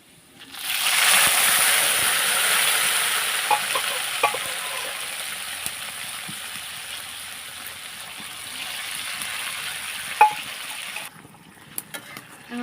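Pressure-cooked meat being fried and stirred in a kadai, a loud steady sizzle that starts abruptly and slowly fades, with occasional scraping and clinks of a spatula against the pan.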